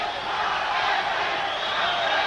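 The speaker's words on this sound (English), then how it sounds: "You can hear the crowd" A large boxing arena crowd in Miami roars in a steady, broad wash of noise between rounds of Alexis Arguello vs Jorge Palomares, distant and sustained with no distinct voices.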